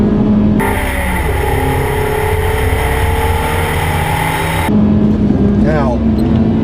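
A 2012 Mazda 3 accelerates hard from a standstill in a 0-60 mph test at over 5,000 feet elevation. The engine drones and rises loudly, then drops with a rough gear shift near the end, under excited talk from inside the car.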